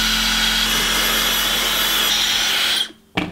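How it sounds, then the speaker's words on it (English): A steady, loud broadband blowing roar runs continuously, then cuts off abruptly near the end with a brief click. "you can then turn the settings on your hairdryer to make it a cool setting"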